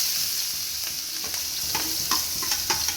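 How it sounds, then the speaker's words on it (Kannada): Onions frying in a pan after mustard seeds, a steady bright sizzle with occasional small pops and stirring scrapes, close and continuous. "ಈರುಳ್ಳಿ ಸ್ವಲ್ಪ ಫ್ರೈ ಆಗಲಿ."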